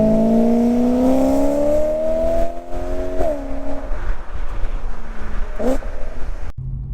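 A BMW M3 E92 V8 with an Akrapovic titanium exhaust revs hard, its pitch climbing loud and close through a gear, dropping at a shift, then pulling again before cutting off.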